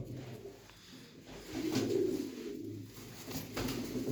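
Pigeons coo softly in a loft, low throaty calls rising and falling over a faint background murmur, close but quiet.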